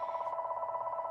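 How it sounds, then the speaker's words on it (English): Telephone rings with a fast, even electronic warble, steady and moderately loud throughout, with no voices over it. "Sorry for the phone call."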